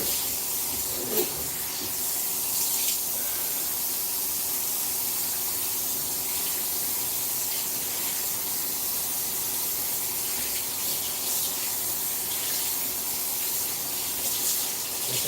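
Tap water runs steadily while something is rinsed off, a continuous close splashing hiss with no pauses and no one speaking.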